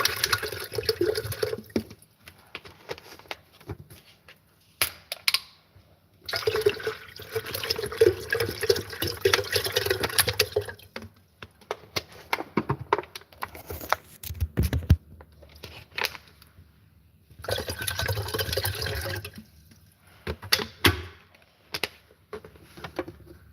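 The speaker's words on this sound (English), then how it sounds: "Open bottled water. Pour it in here." Bottled water poured into a percolator at home for breakfast, coming in several separate bursts of splashing and trickling with quiet pauses between them, close and fairly loud.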